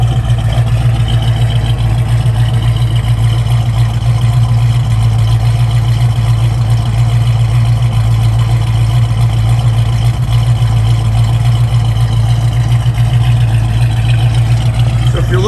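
A 1969 Ford Mustang's engine idles steadily and loudly up close, a deep even rumble that holds without change throughout.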